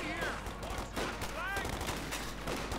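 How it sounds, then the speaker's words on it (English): Rifle and Browning machine-gun fire from infantry in cell buildings during a Company of Heroes 2 battle, rapid overlapping bursts and scattered shots in a dense game mix, with faint whistling projectiles and possible voice lines beneath. "riflemen and such firing away there from cell buildings with the Brownings"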